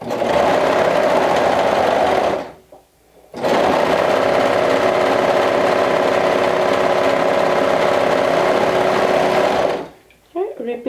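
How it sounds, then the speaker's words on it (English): A sewing machine stitches a side seam with a 1/2 inch seam allowance on a romper or dress, running in two long steady bursts separated by a brief pause, loud and close, with a short stop near the end. "I'm going to go ahead and sew it with a 1/2 inch seam allowance"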